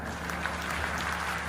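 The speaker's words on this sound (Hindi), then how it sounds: "वहां जितने लोग मौजूद थे सबने तालियां बजाईं।" An audience at a political event in Uttar Pradesh, where Deputy Chief Minister Keshav Prasad Maurya was speaking, claps steadily as a dense wash of applause that stays even throughout.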